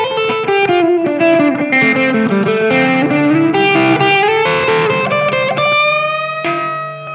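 Heavily distorted vintage electric guitar playing a loud, continuous chord-and-lead rock passage with dense, gritty overtones and sustained notes, alone with no voices, fading slightly at the end.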